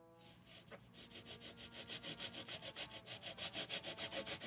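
A hand saw cuts through the cracked vinyl dashboard of a Toyota Hilux pickup in quick rhythmic back-and-forth strokes, a close rasping that speeds into a steady pulse.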